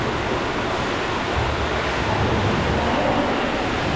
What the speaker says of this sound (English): I'm getting hot water poured all over me right now.